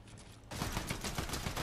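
A quick, close rattle of Fortnite gunfire that starts abruptly after a brief quiet moment and fills the rest of the short stretch as a dense, steady burst.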